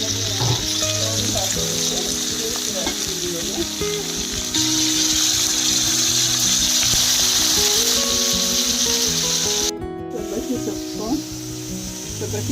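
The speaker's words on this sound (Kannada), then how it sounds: "ಸಬ್ಬಕ್ಕಿ ಸೊಪ್ಪು ಹಾಕ್ತಾಯಿದ್ದೀನಿ." Dill leaves (sabbakki soppu) sizzle in a hot pan while uppittu is being made, a steady close hiss of frying that runs almost unbroken and briefly shifts near the end, with faint background voices.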